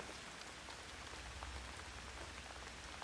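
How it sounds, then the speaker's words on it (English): Steady, dense rain patters on a surface nearby, an even hiss of countless drops with no pauses. "She didn't notice that it was raining."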